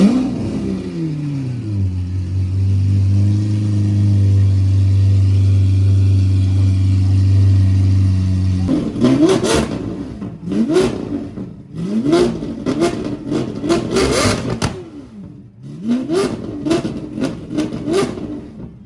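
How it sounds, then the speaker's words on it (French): A Lamborghini Aventador SV Roadster with a Gintani exhaust on a Paris street holds a loud, steady engine drone for several seconds, then fires off a series of sharp, crackling revs in quick bursts, close by. "sur cette Aventador SV Roadster, déjà il y a lui qui pète le seum. Et cette Aventador SV Roadster est en échappement Gintani."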